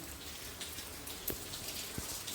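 Rain falling in a village, a soft steady patter of drops with a few sharper individual hits, fairly faint and heard alone.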